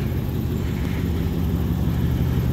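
2005 Mercedes E55 AMG with a custom exhaust, a steady deep engine rumble heard up close and sustained throughout without any talk.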